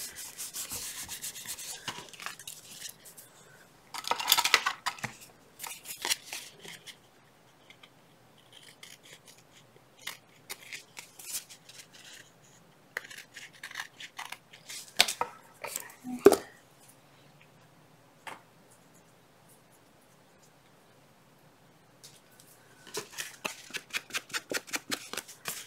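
Scissors snip the corners off a felt image for a Christmas journal, with quiet clipping and rustling of felt and paper up close, several short snips and handling noises spread out, with brief pauses between them.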